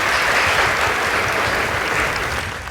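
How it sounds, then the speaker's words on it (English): A school audience giving a loud, sustained round of applause at a results announcement between two schools, dense clapping close up that fades slightly toward the end. "Please give them a round of applause."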